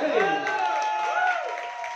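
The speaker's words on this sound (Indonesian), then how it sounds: "Beri tepuk tangan yang paling meriah." Crowd applause and cheering at an evening gathering in a fruit-soup cafe, a steady wash of clapping with whoops and voices riding over it, fading slightly toward the end.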